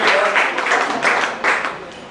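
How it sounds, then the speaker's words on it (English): Audience applause at a corporate event as a volunteer named Mark comes up to the stage, a steady wash of clapping with a few louder swells, moderately close and without talk. "Give Mark a big round of applause"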